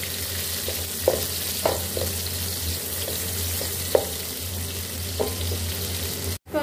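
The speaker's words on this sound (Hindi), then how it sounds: "इसको भी हमने फ्राई कर लेना है प्याज को भी" Onions frying in a pan for an Afghani gandana dish: a continuous low sizzle with a few sharper crackles and stirring knocks spaced a second or so apart.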